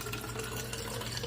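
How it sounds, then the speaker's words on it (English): Water pours steadily from a Brita filter jug into a refillable water bottle, a continuous close hiss and trickle that keeps an even level throughout. "we're refilling our water bottle"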